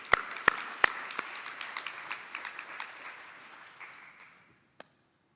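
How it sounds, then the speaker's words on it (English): Conference audience applauding a round of sponsored students at an AI engineering event in Singapore, a burst of clapping that thins out and fades over several seconds, ending with one last isolated clap. "a big round of applause for everyone"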